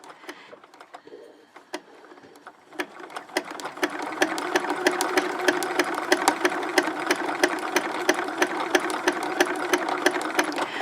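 A sewing machine stitches fusible appliqué along a fabric edge. It starts with a few sparse clicks, then settles into a fast, steady mechanical tapping that is close and fairly loud, with no voices.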